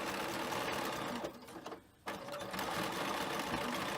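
Sewing machine running a zigzag stitch across the fraying ends of frame bag fabric, a steady close mechanical whir with a brief pause in the middle before stitching resumes.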